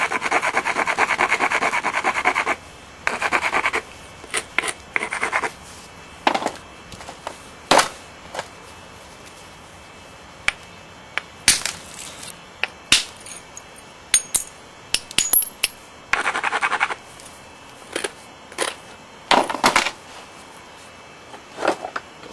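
Flint being ground along its edge platform during knapping, heard as close, repeated rasping scrapes in uneven bursts with short pauses between strokes.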